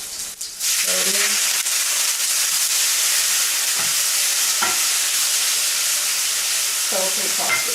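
Fried shallots are tossed in a pan with a loud, continuous, close sizzle and hiss, broken by a few scraping stirs and brief clatters; a voice speaks briefly near the start.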